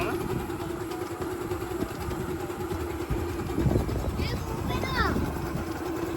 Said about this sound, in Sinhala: අපි බයික් එක අතුර දාලා ස්ටාර්ට් කරලා බලමු